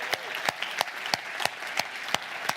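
A political party conference crowd applauds with a steady wash of clapping, and sharp individual claps stand out at a regular, even pace.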